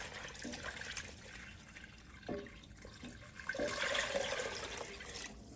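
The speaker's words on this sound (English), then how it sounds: "Add in your broth." Vegetable broth made from a bouillon base pours into a soup pot for a creamy potato asparagus soup, a watery splashing stream that swells and fades over several seconds with no talk.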